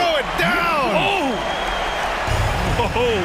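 A basketball video game crowd roars after a dunk, a steady loud cheer under an excited commentator talking throughout, with a squeaking, rising announcer voice over the noise.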